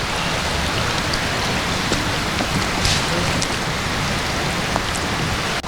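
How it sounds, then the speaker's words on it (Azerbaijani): Steady, dense rain pours down over flooded streets in Masazır, Azerbaijan, a continuous close hiss of drops hitting water and hard surfaces with no voices. "gördüyünüz kimi yağış yağan kimi yolları sel basır"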